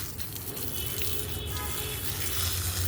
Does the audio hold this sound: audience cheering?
no